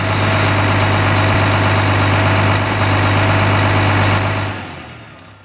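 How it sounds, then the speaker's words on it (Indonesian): A Volvo D13 diesel truck engine in a Volvo FM runs with its engine brake engaged, giving a loud, steady, harsh droning roar with a strong low hum that holds continuously before dropping away sharply near the end. "Jika kita dengarkan suara dari engine ini seperti saat engine brake sedang diaktifkan"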